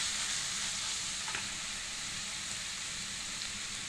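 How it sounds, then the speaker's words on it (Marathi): Tomatoes sauté in a pan for a Konkan-style fresh cashew bhaji, giving a steady, even sizzle and hiss that runs close and unbroken throughout, with no voices. "टोमॅटो छान नरम होईपर्यंत परतून घ्यायचं आहे"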